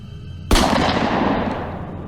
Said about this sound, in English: Then the gunshot.